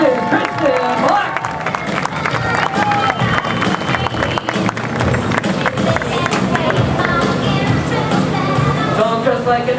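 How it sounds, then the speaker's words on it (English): Applause and cheering from a crowd at a water ski show after a skier's 720 spin, dense clapping that carries steadily throughout, mixed with crowd babble. "let's give a big round of applause as she comes back with the 720"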